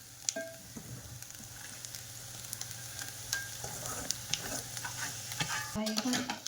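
Vermicelli noodles being stirred in a frying pan, a low sizzle punctuated by sharp clicks and scrapes of the spoon against the pan, close and quiet, growing a little busier toward the end.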